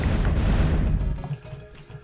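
A heavy boom from a rocket launcher explosion in the Miner's Haven game, loud at first and then fading into a low rumbling tail with a few faint knocks.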